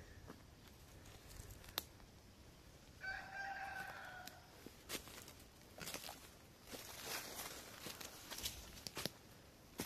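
Chickens and a rooster on a small Brazilian farm plot, with one clear crow rising mid-clip over steady background clucking, rustling and faint footsteps at a moderate distance.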